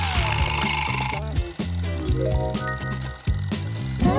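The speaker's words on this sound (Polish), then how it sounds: "Wiem, co oznacza ten budzik." A bright mechanical bell rings at the start, then gives way to music with layered tones and a steady beat, no speech.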